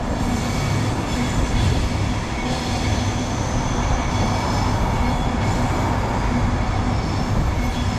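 A Pendolino train heading to Manchester Piccadilly passes close by with a loud, continuous rushing roar and rumble of wheels on rail, steady for the whole stretch.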